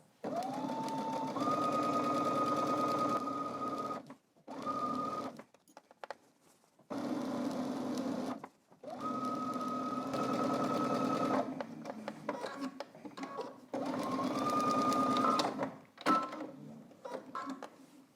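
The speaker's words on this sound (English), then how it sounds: "I'm going to stretch my rib knit to fit onto my sleeve stay as I sew" A sewing machine stitches rib knit onto a coat sleeve in several loud, close bursts, each whirring run rising in speed and then stopping, with short quiet pauses and handling clicks between them.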